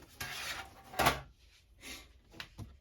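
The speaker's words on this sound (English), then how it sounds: "just pry that back and set the cover aside" A back cover being pried off a device and set aside, heard as short scraping and rubbing bursts of plastic handling with a sharp click near the middle and lighter knocks toward the end, close and fairly quiet.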